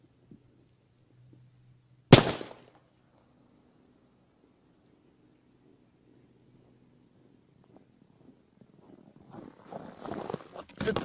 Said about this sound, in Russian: Так, сейчас взорвем красную петарду.